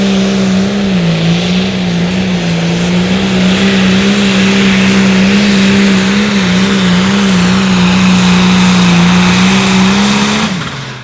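A John Deere pulling tractor in a limited pro stock truck and tractor pull roars at a loud, sustained, strained engine drone, its pitch wavering slightly before cutting off at the end.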